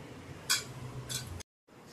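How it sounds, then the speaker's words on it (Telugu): Basundi being spooned from a pot into a bowl, two bright metallic clinks of a spoon against the vessel over a soft background hum, followed by a short silence. "ఇప్పుడు ఇది గిన్నెలోకి తీసేసుకున్నా."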